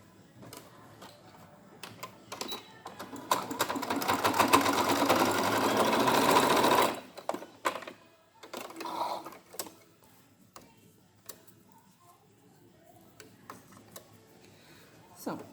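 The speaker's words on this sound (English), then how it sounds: "you're just going to sew along the 2 raw edges" Sewing machine stitching along the two raw edges of a fabric face mask, a steady rapid mechanical whir lasting a few seconds, then stopping, followed by faint handling noises and quiet talk.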